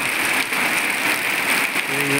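Steady rain falls outdoors near a garden gate with flowering plants and a mango tree, a continuous close hiss of drops hitting surfaces with no pauses and no voices.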